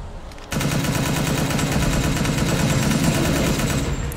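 A steady, continuous stream of rapid automatic gunfire in a video game, loud and close, running unbroken for several seconds after a sudden start.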